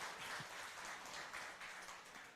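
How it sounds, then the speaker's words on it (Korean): A church congregation applauds during a Sunday sermon, many hands clapping in an even, continuous patter that sounds soft and distant throughout. "박수 한번 더 하겠습니다"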